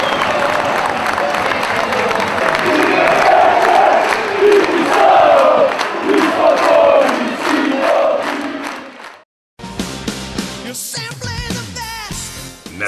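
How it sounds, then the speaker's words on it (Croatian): A stadium crowd at a 2013 football match between Novi Pazar and Rad from Belgrade gives a loud, sustained roar of applause and shouts for about nine seconds. Then it cuts off abruptly and a different, sharper sound follows. "Domaćin je ispraćen aplauzom, ali i gosti iz Beograda za fair i korektnu igru."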